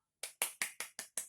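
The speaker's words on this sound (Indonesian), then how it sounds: "Tepuk tangan untuk kedua kelompok." Six crisp, evenly spaced claps for two groups of students who have just finished presentations in an Islamic jurisprudence lesson on the Hajj, heard close and alone with no talking.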